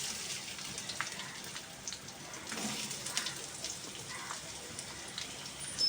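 Onions frying in about two tablespoons of hot oil for a fried biryani give off a soft, steady sizzling hiss with faint crackles, low in level and with no talking over it.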